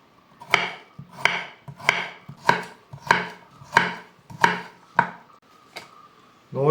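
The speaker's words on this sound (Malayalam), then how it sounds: "അതേപോലെ 50 ഗ്രാം ക്യാരറ്റ് എടുത്തിട്ടുണ്ട്. അത് നീളത്തിൽ നമുക്ക് അരിഞ്ഞെടുക്കാം." Carrots being cut lengthwise with a knife on a board for chicken biryani, eight or nine crisp, evenly spaced chops in a steady rhythm, close and clear with no talking.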